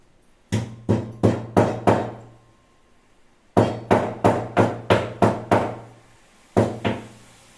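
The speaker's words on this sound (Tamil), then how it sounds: "ஏலக்காய் மட்டும் தட்டி போட்டுக்கலாம்." Cardamom pods are tapped for a bottle gourd and sago payasam: sharp, evenly spaced pounding strikes, five in a quick run, then a pause, seven more, another pause and two final blows, close and clear with no talk.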